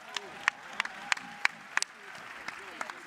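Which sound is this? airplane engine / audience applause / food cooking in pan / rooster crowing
audience applause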